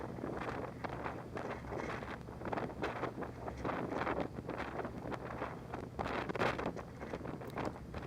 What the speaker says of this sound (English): they recorded some people outside in the winds